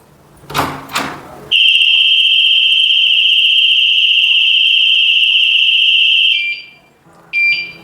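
Two thuds of a door opening, then a loud piercing electronic security alarm, triggered by a door sensor, wails steadily for several seconds, cuts off, and briefly blares again.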